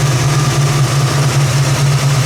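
A 1966 Ford Mustang coupe idles steadily through its dual exhaust, a loud, close, low, even burble with a constant rumble and no talk.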